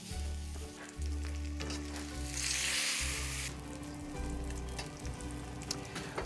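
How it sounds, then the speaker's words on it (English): A slab of American wagyu picanha sears fat side down in a hot sauté pan with a loud, continuous sizzle. A sharper hiss flares briefly in the middle, and low hum and handling sounds sit beneath it. "I'm gonna start this in the pan and get a good sear on it."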